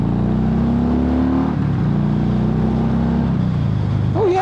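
Harley-Davidson FXFBS 114 Fat Bob motorcycle accelerating, a loud, continuous low engine rumble whose pitch climbs steadily, then dips briefly at a gear change and rises again, heard up close without talk.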